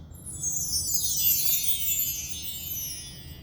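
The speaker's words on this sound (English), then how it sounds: "But notice when I hit the bottom of the chimes" Mark tree chimes struck at the bottom send a bright cascade of small metallic tones sweeping downward and ringing on steadily through the clip, soft and close over a low room hum, no voices.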